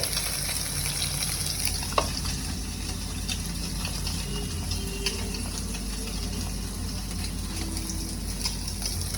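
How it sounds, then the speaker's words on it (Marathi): Bread slices coated in potato masala fry on a hot tawa with a steady crackling sizzle, continuous and close, with a single small knock early on and no talking. "आता ह्याला तव्यावर शेकायला ठेवते"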